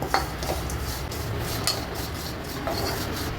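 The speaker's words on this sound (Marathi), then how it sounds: "खोबरं भाजण्यासाठी आपल्याला तुपाची गरज नाही आहे ते असंच भाजून घ्यायचं आहे आपल्याला" Grated coconut and poppy seeds are dry-roasted without ghee in a pan, with a spatula scraping and rubbing against the metal in a steady, close, rasping rhythm.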